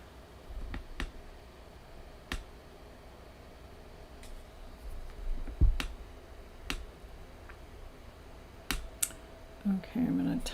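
Sparse, scattered computer keyboard clicks and taps in a quiet studio, irregular and fairly faint, with a low background hum.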